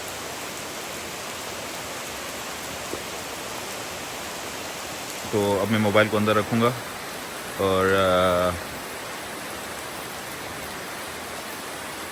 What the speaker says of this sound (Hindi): बरसात बहुत तेज़ हो गई है।